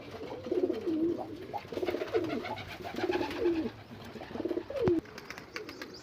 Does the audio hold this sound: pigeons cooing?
yes